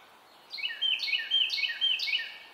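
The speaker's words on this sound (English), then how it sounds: "Some kind of wren." A wren sings four quick, bright descending trills over a soft background hiss, moderately loud and steady in rhythm, in East Texas.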